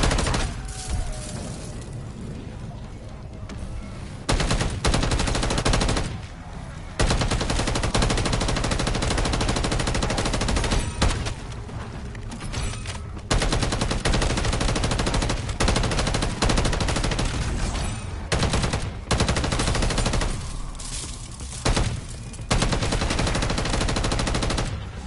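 Automatic weapon firing in Call of Duty MWZ, a gun whose rate of fire spools up and quickens the longer the trigger is held; long loud sustained bursts broken by brief pauses, dense and continuous.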